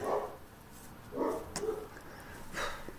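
A dog barks a few times indoors, three muffled, moderately quiet woofs spread across the moment.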